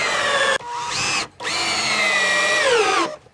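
Power drill driving Torx head screws into a wooden jig built to hold an axe handle: two loud, close whirring bursts with rising and falling motor pitch, separated by a short pause, with no voices.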